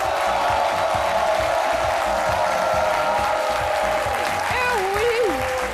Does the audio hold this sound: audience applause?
yes